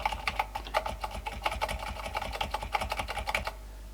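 Keys tapped on a modified US Sinclair ZX81 computer keyboard, a rapid, uneven run of close clicky keystrokes lasting a few seconds before stopping, with no talk.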